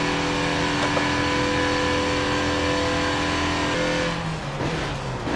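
A Mazda race car at Daytona International Raceway in Forza Motorsport 7 holds a steady, high engine drone at speed, then the note drops and fluctuates near the end as it brakes or turns.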